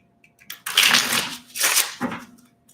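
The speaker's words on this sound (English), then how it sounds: "I love the way these cards shuffle so smooth" Tarot cards shuffled by hand in a few soft, crisp riffling bursts, close and moderately loud, with short pauses between them and no talk.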